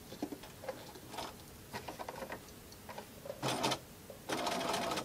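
A sewing machine re-sewing a short segment of a tote bag seam, stitching in quiet bursts with soft ticking and pattering, pausing between runs before a louder final stretch of stitching.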